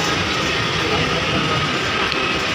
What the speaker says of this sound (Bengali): প্রায় আধ ঘন্টার মতো দাঁড়িয়েছিলাম ট্রেনটা আসেনি এই সবেমাত্র এলো